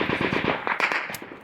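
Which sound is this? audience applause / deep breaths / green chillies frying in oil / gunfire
gunfire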